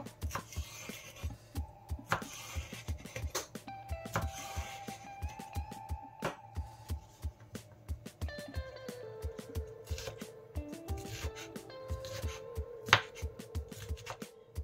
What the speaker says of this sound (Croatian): Seckamo beli luk, sitno.